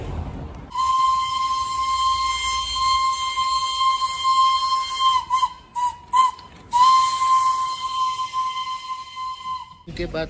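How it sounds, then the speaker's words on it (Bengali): A shrill steady whistle from the Darjeeling toy train at Ghum station sounds for several seconds, cutting out briefly a few times before resuming, loud and close. "কিছুক্ষণ ঘুরতে ঘুরতেই দেখা মিলল সেই বিখ্যাত টয় ট্রেনের।"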